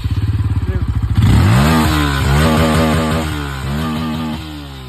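Yamaha MT-15 motorcycle from 2024 fitted with an Akrapovic exhaust, heard up close with a loud, rapid idle pulse that bursts into sustained revving. The throttle rises and falls in repeated surges and stays loud throughout.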